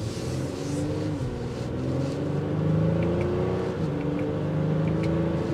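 A 2023 Honda Pilot accelerates steadily in normal mode on a test drive, its engine droning and rising and falling in pitch as the gears shift, loud and continuous from inside the cabin.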